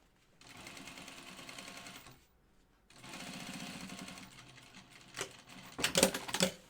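A sewing machine top stitches and edge stitches a pocket opening on a vest in two close bursts of fast, even mechanical whirring separated by a short pause, followed by a few louder clunks and rustles.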